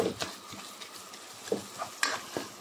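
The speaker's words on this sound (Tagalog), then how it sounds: "nilaga muna natin ang giniling para ito ay hindi buo-buo. Durug-durugin natin." A spoon stirs and crumbles ground pork in a pan for picadillo, giving soft scraping and scattered light clinks over a faint sizzle, close and quiet with no talk.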